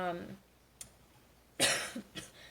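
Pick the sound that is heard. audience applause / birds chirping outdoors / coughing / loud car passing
coughing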